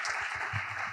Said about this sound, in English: a round of applause for everyone that presented today